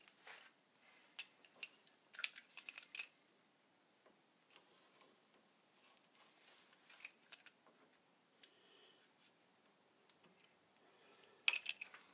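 Sharp cutter snips and clicks through CSST corrugated gas pipe tubing in short bursts, faint and close, with quiet pauses between and a brighter crisp click near the end.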